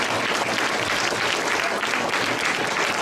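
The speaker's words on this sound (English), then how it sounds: "Let's give our volunteers one more round of applause." A crowd of students and parents gives volunteers a loud, sustained round of applause at a school gathering, a thick, continuous wash of clapping from many hands with no voices over it.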